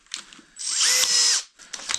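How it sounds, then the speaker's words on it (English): A powerful handheld power drill with a worn chuck that won't grip bits, whirring in one loud close burst of about a second between quieter handling clicks and rattles. "I hate this drill, man. It's very powerful"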